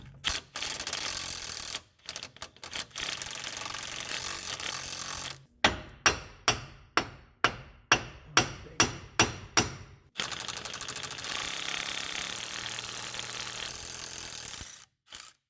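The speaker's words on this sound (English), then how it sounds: "Once it starts getting loose, you can run it out with your gun." An impact gun spinning out a wheel hub bolt on a 2012 Subaru Impreza during a wheel bearing job, long close whirring runs broken by a series of sharp rhythmic hammering bursts, no speech.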